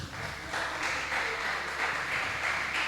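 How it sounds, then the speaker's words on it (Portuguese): Congregation clapping hands in praise during a church worship service: a steady, dense wash of many hands clapping together, fairly loud and continuous, with no speech over it. "Louve a Deus com as palmas"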